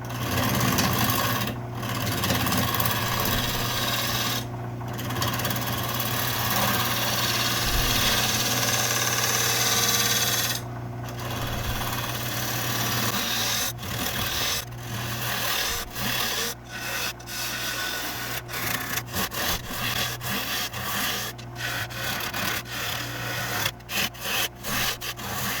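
A gouge making pull cuts to hollow a spinning pine bowl on a lathe, a continuous rough scraping hiss over the motor hum, broken by frequent short gaps as the tool lifts off the wood.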